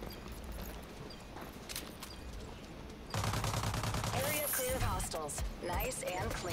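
Rapid automatic gunfire rattles in a shooter game, light distant shots giving way to a louder, faster burst, while players talk over the shooting.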